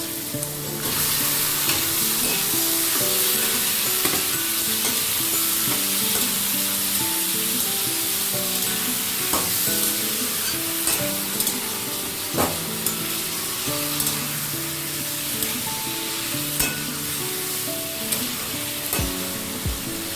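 Chicken pieces fry steadily in a pan with green chilli paste for achari chicken, a loud, continuous sizzle with occasional stirring clicks over background music throughout.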